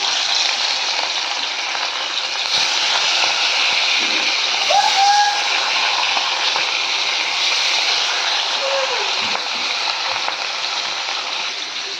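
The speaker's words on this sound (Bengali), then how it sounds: "তেল আমার গরম হয়ে গেছে, এবার মাছগুলো আমি ভেজে নেবো" Fish frying in hot oil in a home kitchen makes a loud, continuous sizzle from start to finish, with a few faint whistle-like squeaks rising over the crackle and no voices.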